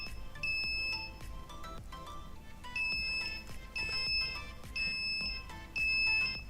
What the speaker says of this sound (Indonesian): Nah, alarm menyala, relay menyalakan kipas.